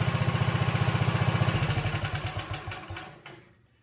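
Wheel Horse RJ 58/59 riding mower engine idling up close, a steady rapid putter with a clattery edge that slows and fades toward the end as it winds down.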